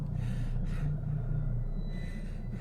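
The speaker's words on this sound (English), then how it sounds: "And you hear right behind you heavy breathing." Heavy breathing sounds close behind the listener, a few deep gasping inhales and exhales over a low background rumble.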